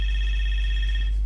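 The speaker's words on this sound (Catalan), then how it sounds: "Tenim telèfon. Trucada." A telephone rings with an incoming call during a radio show, a loud, steady electronic tone sustained over a deep low hum, with no talking.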